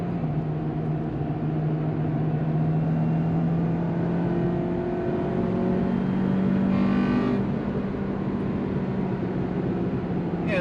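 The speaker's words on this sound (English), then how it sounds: "it's definitely fun hearing the engine just roaring. As soon as it hits that VTEC cam" Acura RSX Type S with its K20Z1 engine roaring steadily at high revs on VTEC, loud and continuous with a rising engine tone and no talking.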